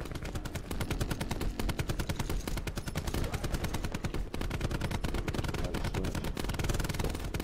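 Rapid automatic gunfire from Call of Duty Black Ops 4 multiplayer fills the whole stretch, dense bursts of shots crackling loud and continuous with layered explosions underneath.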